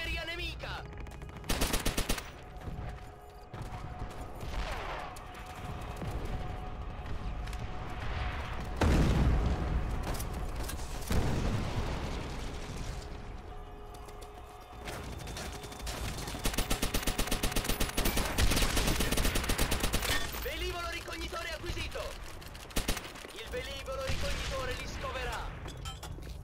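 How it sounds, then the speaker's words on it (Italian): Battlefield gunfire and explosions in Call of Duty: World at War, with sustained machine-gun bursts, scattered shots and heavy booms throughout, along with Italian in-game voice callouts. "Artiglieria nemica!"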